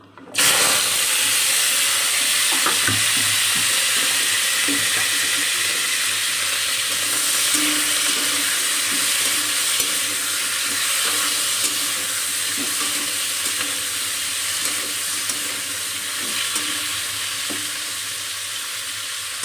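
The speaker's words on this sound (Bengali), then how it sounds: "এবারে কেটে রাখা আলু দিয়ে দেব।" Cut potatoes dropped into hot oil in a kadai after frying prawns, starting with a sudden burst then settling into a loud, continuous frying hiss with faint clinks.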